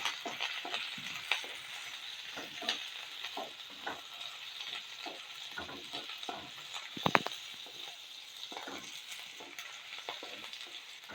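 Dried red chillies and curry leaves sizzle and crackle in hot oil in a home kitchen, a steady frying hiss with occasional stirring clinks and one sharp pop, no voices.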